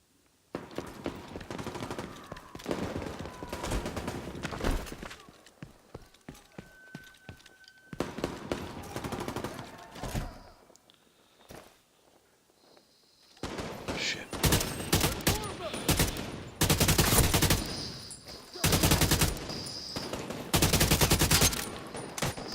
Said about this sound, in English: Here's some gunshots.